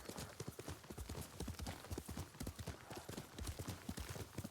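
A horse's hooves clip-clop at a steady trotting rhythm in the video game Ghost of Tsushima, many quick even hoofbeats close by, quiet overall.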